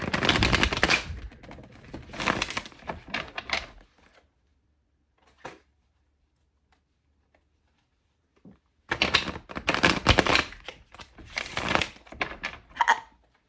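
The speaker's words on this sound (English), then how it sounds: "I'm going to shuffle them first because they need to be reactivated" A deck of playing cards being shuffled in two bursts of crisp riffling and flapping, each a few seconds long and close to the microphone, with a quiet pause between them.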